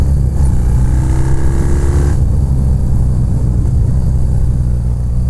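Custom BMW R45 airhead motorcycle with a twin-cylinder engine runs at a loud, steady idle throughout, with a brief rising rev near the start that settles back to a low, continuous rumble.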